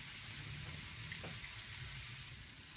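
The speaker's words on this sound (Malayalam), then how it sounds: "ഒരു പത്ത് ചെറിയുള്ളി ചെറുതായിട്ട് അരിഞ്ഞെടുത്തത് ഇത് അതിൽ തന്നെ നമ്മൾ നന്നായിട്ട് വഴറ്റിയെടുക്കുകയാണ്" Chopped shallots sautéing in a pan, a steady close sizzle with soft crackling and occasional faint stirring scrapes, continuous without talk.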